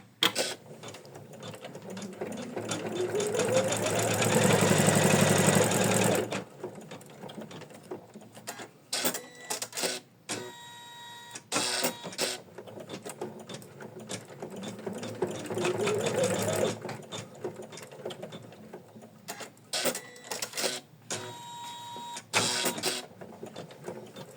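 An embroidery machine stitches a decorative pattern on a felt heart: a rapid mechanical whir that runs steadily for several seconds, then breaks into stop-start bursts of needle clatter with short pauses, close up and without voices.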